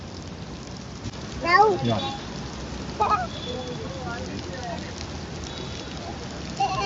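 Heavy rain pours down in a constant hiss while friends walk through it, with voices speaking over the downpour in a few short bursts.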